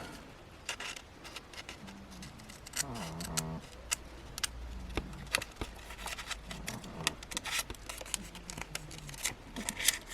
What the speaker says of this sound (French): Je prends donc mes petits ciseaux.